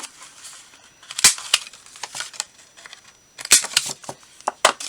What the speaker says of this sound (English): And we'll go ahead and round the edges on this one.